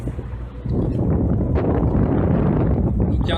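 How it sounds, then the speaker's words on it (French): Strong spring wind buffets an outdoor microphone, a loud continuous low roar that rises sharply after the first half second and holds steady with gusty rumble. "il fait tout le temps un gros vent et plein de pluie"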